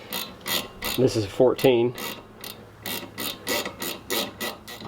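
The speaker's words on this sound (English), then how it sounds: "The easiest way to reach these is with a wrench like this." Ratchet wrench tightens a brake caliper bolt on a car with seized brakes, rapid repeated clicking strokes close up, a person speaking briefly between them.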